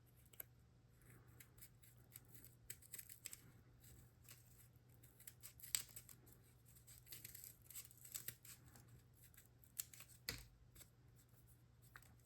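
Scissors trimming around the edge of a folded paper snowflake, giving quiet, intermittent snips and paper rustles against a steady low hum, with a few sharper cuts standing out.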